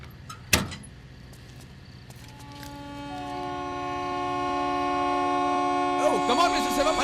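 A passenger train at a station sounds a long, loud, rising horn as it is about to leave, preceded by a sharp bang like a door and followed by metallic squeals, with busy station background.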